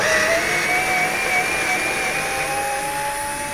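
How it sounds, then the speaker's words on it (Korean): An IKEA electric screwdriver whirs steadily, loosening then tightening a screw in furniture, a continuous close motor whine with no talk. "그리고 이 전동 드라이버 테스트 한번 해보겠습니다."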